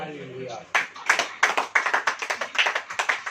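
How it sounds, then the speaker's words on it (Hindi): A voice speaks briefly before a church congregation breaks into rhythmic clapping during a Hindi sermon; the claps are loud, near and evenly paced, continuing to the end. "ताली हो जाएगी।"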